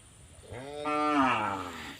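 A single cow lets out a long, loud moo close by, rising and then holding steady before it fades, with no voices over it.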